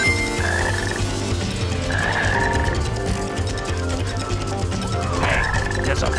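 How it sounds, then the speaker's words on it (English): A frog croaks in the Sonic Heroes video game, a few short tonal calls repeating over continuous game music and sound effects. "Hey, there's a frog over there."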